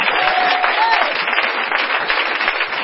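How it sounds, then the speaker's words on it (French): A church congregation applauds together, a steady dense wash of clapping and crowd noise sustained throughout at close range, with a few voices faintly mixed in. "Acclamons Dieu pour elle."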